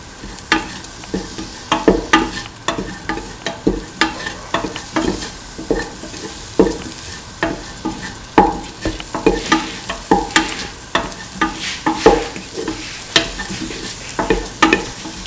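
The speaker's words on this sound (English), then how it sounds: "Mix thoroughly." A spoon scrapes and stirs spices rhythmically in a hot frying pan, with a steady soft sizzle underneath and frequent clinks against the metal.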